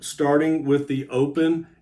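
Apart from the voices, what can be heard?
None of the usual background noises is heard.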